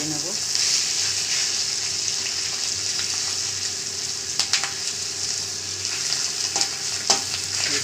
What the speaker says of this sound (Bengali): মাছের ডিমটাকে ভেজে নেবো